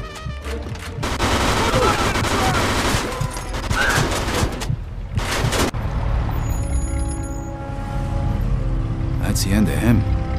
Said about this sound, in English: Shoot him, Joe